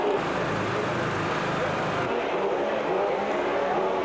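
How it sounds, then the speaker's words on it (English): Formula 1 race cars from the 1992 season roll up one by one to their grid positions before the final race. A continuous engine drone is heard, with a voice speaking over it. "One by one, the cars came up to their grid positions."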